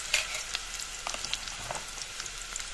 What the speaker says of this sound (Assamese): পিঁয়াজখিনি লৰাই দিছোঁ